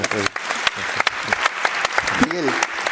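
Applause and clapping rise through the clip while a person keeps talking over it, close and fairly loud.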